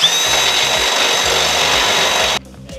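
A power drill bores a mounting hole for a GWM Cannon nudge bar, its loud, steady whine running continuously for over two seconds before stopping abruptly, leaving a quieter tail.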